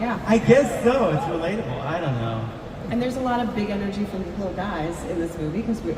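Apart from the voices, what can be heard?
None of the usual background noises is heard.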